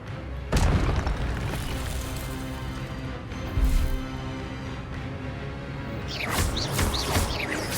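A Hogwarts Legacy spell effect fires with a sudden magical blast and rumble, followed by sustained shimmering effects and a second, fainter burst.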